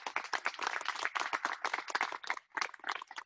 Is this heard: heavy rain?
no